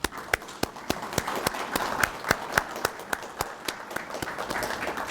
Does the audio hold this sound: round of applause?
yes